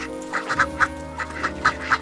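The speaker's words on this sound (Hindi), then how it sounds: "ये बाहर पैक पैक की आवाजें क्यों आ रही है?" Cartoon ducks quack repeatedly in a quick irregular series of about nine short nasal calls, moderately loud over a steady background music bed.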